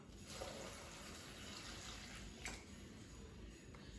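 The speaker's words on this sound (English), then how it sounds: "we're adding 720 grams of water" Water runs steadily into a Thermomix bowl during mushroom risotto preparation, a faint continuous splashing pour with no talking.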